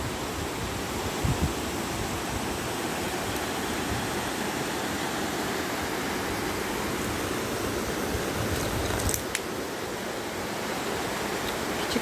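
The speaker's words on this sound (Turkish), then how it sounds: "Küçük küçük şelaleler var böyle ikinci havuz bölümünde, doğal havuz." Kurşunlu waterfall with small cascades into a natural pool pours steadily, a dense, continuous rushing roar of water with no pauses.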